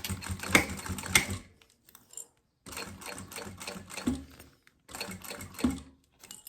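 A domestic sewing machine stitching synthetic leather for a wallet runs in three bursts of rapid mechanical clatter, with short silent pauses between them as the stitching stops and restarts.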